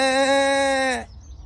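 A single loud, close goat bleat, a steady wavering call lasting about a second that cuts off abruptly into near silence.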